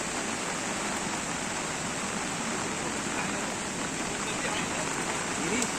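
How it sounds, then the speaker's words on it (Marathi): Steady rain falls across Raigad district in the Konkan during a red-alert monsoon spell, a dense, even hiss of rainfall holding unchanged throughout with no voices heard. "रायगड जिल्ह्यात सर्वच भागात पावसाची रिपरिप पाहायला मिळते"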